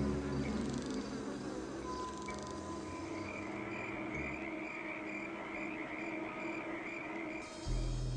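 Flies buzzing in a garden, a dense steady drone of many wings close by, joined by insect chirring and croaking frogs in the background, with no voices.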